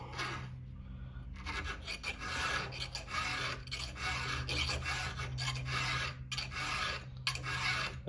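A file rasps steadily across a Holzfforma chainsaw chain clamped in a vise, close and continuous strokes with brief pauses between runs.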